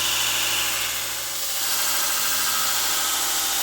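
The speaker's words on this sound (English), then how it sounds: "begin profiling on the belt grinder" A belt grinder profiling a steel Bowie knife billet, a continuous broadband grinding roar with a steady motor hum underneath, loud and close, with no talking.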